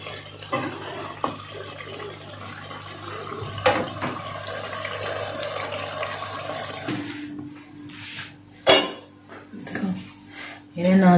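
Meat and spinach being stirred and sautéed in a pot for a turnip chicken curry, with scraping and clinking of a utensil against the metal over a steady cooking hiss, louder knocks near the end.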